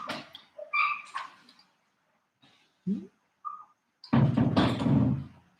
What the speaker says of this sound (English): You gotta see this dog.